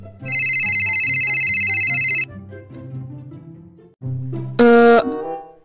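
A phone ringtone in the Sakura School Simulator game rings loud and steady for about two seconds over a looping melodic backing tune, then a brighter chiming burst sounds near the end.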